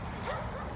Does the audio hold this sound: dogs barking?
yes